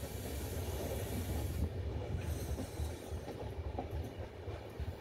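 Howrah–Mumbai mail passenger train rolling along the tracks, a steady loud rumble of wheels and carriage with faint rhythmic clatter and hiss throughout, no talking.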